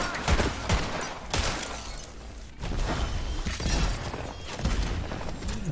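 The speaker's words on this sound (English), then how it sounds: "I love this fire effect with the bullets" Rapid video-game gunfire with fiery bullet effects in Tiny Tina's Wonderlands: dense bursts of crackling shots and impacts in several loud volleys, with brief pauses between them.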